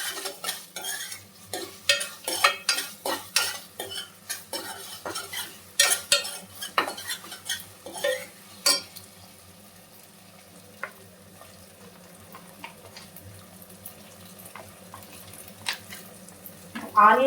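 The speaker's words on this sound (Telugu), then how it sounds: "అల్లం వెల్లుల్లి పేస్ట్ యాడ్ చేశాను." Ginger garlic paste fries in a pan for a drumstick curry while a spoon scrapes and stirs it, giving loud clattering strokes for the first half, then a quieter steady sizzle.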